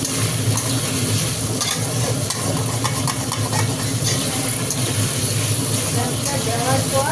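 Ginger paste fries in a pan while being stirred, giving a continuous loud sizzle with scraping and rattling under a voice speaking.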